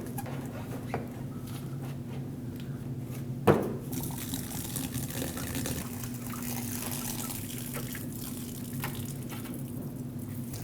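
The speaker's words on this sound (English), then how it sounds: "there will still be coolant coming out of this radiator hose" Coolant trickling out of a disconnected radiator hose into a bucket during radiator replacement on a Nissan Frontier 2.5L L4, a faint steady drain with one sharp knock partway through.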